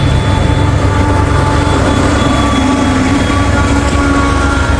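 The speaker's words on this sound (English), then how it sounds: "And a DPU coming through." A freight train with a DPU locomotive rolls past nearby in a continuous, steady roar of wheels and heavy low engine rumble, with a faint high squeal running through it and no voices.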